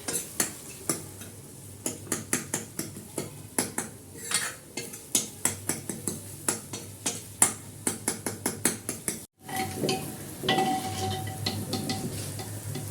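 A tadka of garam masala and degi chili frying in a pan, with a soft continuous sizzle under a rapid series of sharp spoon taps and scrapes against the metal, a brief pause, then louder sizzling.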